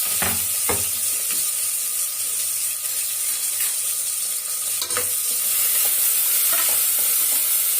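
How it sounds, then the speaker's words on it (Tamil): Onions sauté in a pan with fennel seeds for tomato rice. A close, steady sizzle is broken by repeated sharp scrapes and taps of a spoon stirring, with no talk. "இப்போ வெங்காயம் ஒரு கோல்டன் நிறம் மாற்றம் வதங்கணும்."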